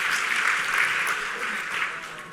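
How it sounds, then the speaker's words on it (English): Applause from an audience for a guest named Mike at a motivational talk: steady, dense clapping at a constant level across the whole stretch, with no voices over it. "Can we give Mike a round of applause for joining us?"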